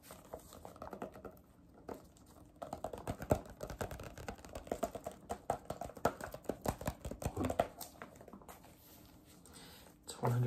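Sheets of 150-page college ruled lined notebook paper handled up close, giving soft crinkling, rustling and tapping bursts in quick irregular succession, with light background noise and no talking during the handling.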